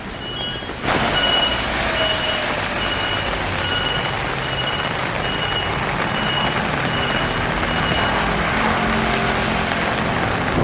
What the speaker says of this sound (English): there's a battery bus that brought me here